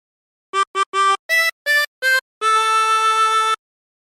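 Tremolo harmonica with 24 holes plays a Jingle Bells phrase: six short clipped chords in quick rhythm, then one long sustained chord, bright and reedy, close and alone.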